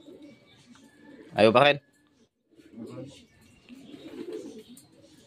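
Racing pigeons at a derby race loft coo in a loud, short burst, then softer murmuring coos follow, with a person speaking briefly in between.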